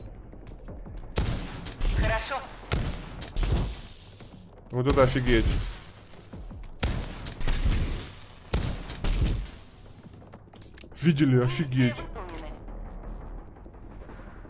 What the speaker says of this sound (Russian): Револьвер огненный смерч стреляет пулями, которые могут воспламеняться по команде, поджигая цель.